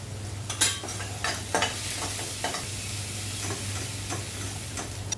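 Homemade masala with turmeric and asafoetida is stir-fried in a pan, giving a soft sizzle with scattered scraping taps of a spoon and a low steady hum beneath.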